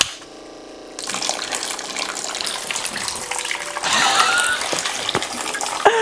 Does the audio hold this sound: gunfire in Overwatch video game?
no